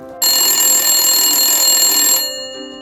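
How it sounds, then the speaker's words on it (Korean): An old telephone bell rings loudly in an Incheon prison, one sustained metallic ring starting abruptly, holding for about two seconds and then fading out. "인천 감옥에 요란한 전화벨 소리가 울렸어."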